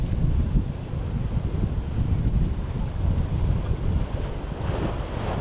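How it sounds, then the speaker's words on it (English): Gusty wind buffets the microphone on the Maltese coast near the sea, a constant heavy low rumble with rising and falling surges and a faint wash of surf behind it. "here we're getting a little bit of wind"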